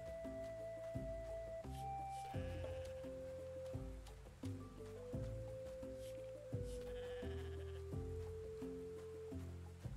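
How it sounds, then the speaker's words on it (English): Goats in the farming game Roots of Pacha bleat repeatedly, their wavering calls following one another in quick succession over soft rustling, close and clear, with no talking. "The goats don't like me."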